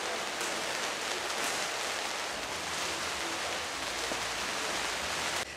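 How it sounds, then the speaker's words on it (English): Steady, dense patter of raindrops falling on tents outdoors in Llanrwst, Wales, a constant close hiss with no talk, cutting off abruptly at the end. "I love the sound of raindrops on tents."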